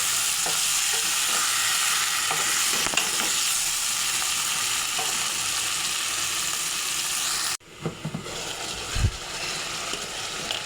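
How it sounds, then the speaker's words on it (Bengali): Potatoes and chicken pieces fry together in a pan for chicken bhuna khichuri, giving a dense, steady sizzle that cuts off abruptly, followed by a quieter stretch with a few scrapes and a soft thump. "আলু আর মাংস একসাথে কষিয়ে নেব"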